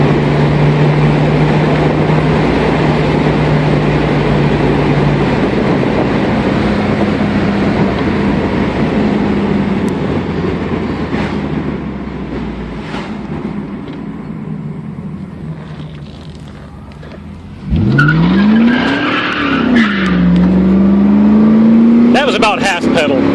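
A 2000 Pontiac Trans Am accelerates at about half pedal, a loud engine roar heard from inside the car that climbs in pitch, eases back, then surges again with a rising whine and gear change as someone speaks.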